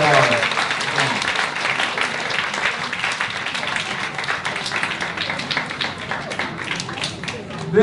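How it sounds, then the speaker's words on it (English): Loud, sustained applause from a crowd at the Flushing Library 20th anniversary celebration, dense clapping running steadily throughout with a brief swell at the very end. "Can we give them another big round of applause?"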